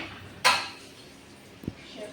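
Dishes and pots are washed, with one sharp metallic clank followed after a pause by a softer knock, both against a quiet room background.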